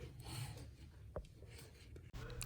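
Cloth rubbed hard over an embroidery hoop to clear sticky adhesive glue, giving a steady, close, low scrubbing rasp with a couple of brief knocks, no talking.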